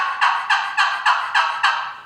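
A wooden yelper box call for turkey hunting is played as six evenly spaced, raspy hen yelps, clear and close with no voices.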